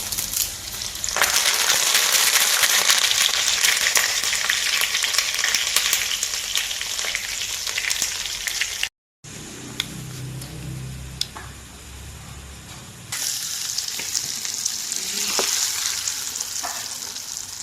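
Steady, loud sizzling of curry leaves frying in hot oil for a mango and red chilli pickle, broken by a brief silence and then a quieter crackle that swells again.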